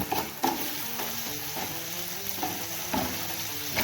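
Meat sizzles and fries in a hot pan for egg fried rice close up, a steady crackle with occasional stirring scrapes and clinks, no talking.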